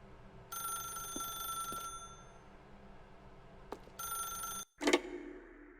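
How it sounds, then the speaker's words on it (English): An office telephone in The Stanley Parable rings in two bright, sustained bursts with a pause between them, followed by a short clunk as the call ends. "then pick up the phone."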